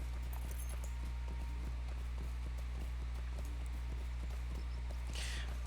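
Horse hooves in the online game Lord of the Rings Online, a steady rhythmic clip-clop of a trotting mount under a constant low hum, with a short bright chime near the end.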